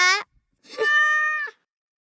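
A cartoon cat meows twice, a short close cry followed by a longer drawn-out meow, both loud and clear with a brief pause between them and no talk.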